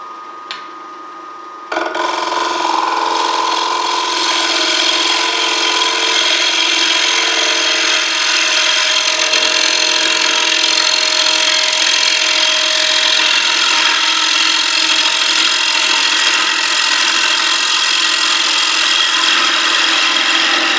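Box elder wood spins against a cutting tool on a lathe, a steady, loud scraping hiss that continues evenly for many seconds after a brief quieter start.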